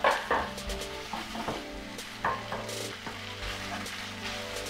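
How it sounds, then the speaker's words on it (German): Marinated beef sizzles loudly in a hot frying pan, a steady crackling fry with a few sharper pops and scraping stirs of the meat, close by and with no voices. "Einfach das Fleisch in die Pfanne rein."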